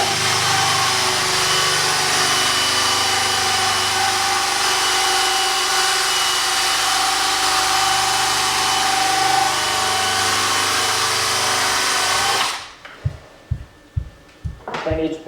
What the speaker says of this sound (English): This is a brass brush on my drill here.